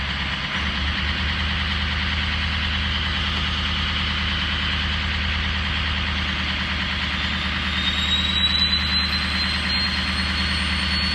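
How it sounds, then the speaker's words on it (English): A 2003 truck diesel engine, still cold, runs a steady low rumble that rises gently and slowly in revs, close and loud, with a faint whistle creeping up near the end. "it's still cold, so I'll rev it up a little slow"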